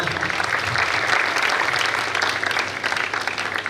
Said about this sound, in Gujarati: એમને જોરદાર તાળીઓથી આવકારીએ